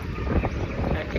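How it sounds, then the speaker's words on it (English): Wind gusts across an outdoor microphone in Dubai, giving a dense, fluttering rumble that stays loud and steady for the whole moment. "it's windy now"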